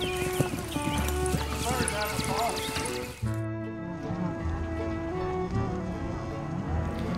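Quarter horse hooves clip-clop in a steady walking rhythm on a ranch, moderately close, with music and a voice talking over them.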